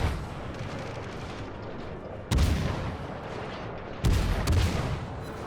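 Naval gunfire in World of Warships, a continuous heavy rumble of battle noise broken by two loud booming salvos, one at mid-clip and one near the end, each followed by a lingering roar.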